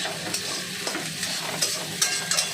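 Food is stir-fried in a hot pan, giving a steady, loud sizzle. Scraping and tossing strokes recur every half-second or so, with no talking.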